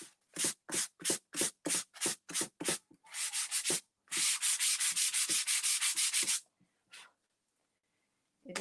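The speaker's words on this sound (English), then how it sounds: "You can sand that very, very easy." Hand-sanding a painted bathroom cabinet: a run of short rhythmic rasping strokes, then a longer rapid stretch of quick scrubbing, close and fairly quiet, ending with a few isolated rubs.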